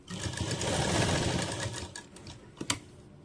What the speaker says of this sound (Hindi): इस पर हम लंबी चाल से ही सिलाई कर लेंगे क्योंकि लैस लगाएंगे, और सिलाई हमें बिल्कुल किनारी पे लगानी है